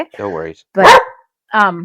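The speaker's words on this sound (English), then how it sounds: "Sorry about the dog." A pet dog barks close by in a home during an interview, three sharp barks spread across the moment while a person speaks between them.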